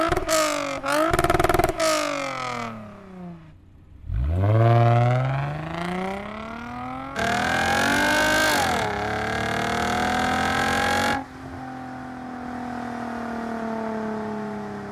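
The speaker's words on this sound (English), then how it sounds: "It's stainless steel exhaust, and I'm gonna show you a clip of how it sounds." A Lexus IS250 V6 with a stainless steel aftermarket exhaust revs up loudly in several bursts, rising and falling sharply, with a sustained high rev near the middle before settling to a steady idle, no talk over it.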